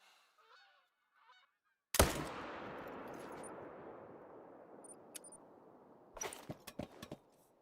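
A single loud rifle shot rings out in a whitetail deer hunting video game, its echo decaying slowly over several seconds, followed by a quick cluster of sharper cracks near the end.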